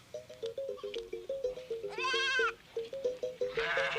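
Goats and sheep in a Baoulé village in Ivory Coast bleat over and over in short wavering calls, with one longer, louder quavering bleat in the middle and a rougher one near the end, close by.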